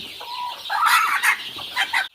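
Country chickens clucking close by during vaccination, a few short throaty calls in quick succession, loud and clear with no voices.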